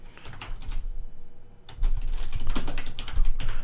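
Quick bursts of typing on a computer keyboard as a folder name is entered, crisp close key clicks in an uneven rhythm, a short pause, then a denser run of keystrokes.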